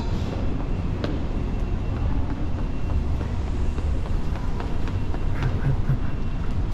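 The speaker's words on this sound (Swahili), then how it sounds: "hizi ndo zile treni ambazo wanasema zinaenda ndani ya mji" A city train at Union Station gives off a steady, loud low rumble with faint metallic ticks and squeals throughout, a continuous drone with no talk over it.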